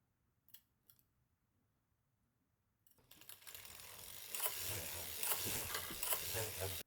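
A circular sock machine being hand-cranked to cast on with a bonnet gives a steady mechanical ratcheting clatter that starts abruptly after a few quiet seconds with faint clicks, then continues loud and close until the end.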